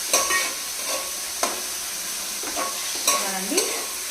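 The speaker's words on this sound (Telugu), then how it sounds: "బాగా మిక్స్ చేసి ఫ్రై చేసుకోండి." Onions fry with a steady sizzle in a pan while being stirred, with periodic scraping strokes of the spoon standing out over the continuous hiss.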